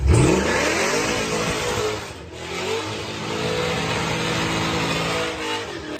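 A Mustang fitted with a 491-horsepower small block Chevy engine revs hard near the rev limiter in a parking lot. The loud, sustained, buzzing engine roar dips briefly before it climbs back and holds, with no voices.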